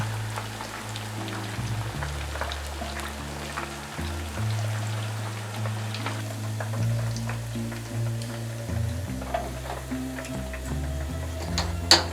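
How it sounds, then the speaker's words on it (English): Ribs browning in hot frying oil give off a light, crackling sizzle with scattered pops, half buried under louder background music. "Let them brown for 10 to 12 minutes."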